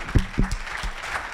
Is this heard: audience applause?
yes